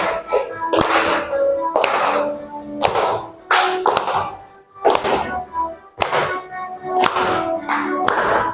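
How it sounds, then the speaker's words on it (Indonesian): A group claps in rhythm along to a sing-along song about keeping the earth clean, the sharp hand claps landing in steady bursts, loud and close, with singing around them. "sambil tepuk tangan boleh"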